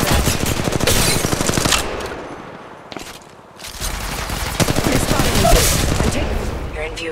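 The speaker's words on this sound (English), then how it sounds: "Being shot at." Rapid automatic gunfire in the mobile battle royale game Apex Legends Mobile while under fire, loud sustained bursts with a brief lull in the middle before the shooting resumes, close and dense.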